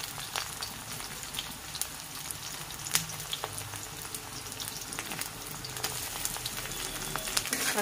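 Chopped onions fry in hot oil with garlic, chili and cumin nearby, a dense steady sizzle and crackle that continues close and unbroken throughout, with no talking.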